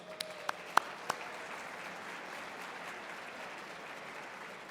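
Diners at the 31st Annual Daniel H. Burnham Award Dinner applaud the Hilton staff: a few sharp, distinct claps up front swell into soft, steady, distant-sounding applause from the room.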